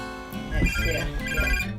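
A telephone rings with a repeating electronic trill, two bursts close by, while a voice talks over it.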